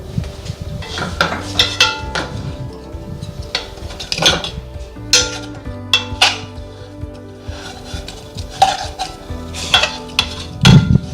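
Food being mixed in a bowl with a spoon, repeated close scraping and clinking of metal against the dish in uneven strokes, loud and clear with no talking.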